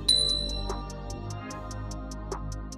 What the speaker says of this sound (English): click the notification bell too.